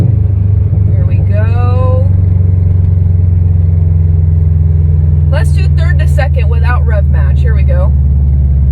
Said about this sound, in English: Let's downshift. Here we go. Let's do 3rd to 2nd.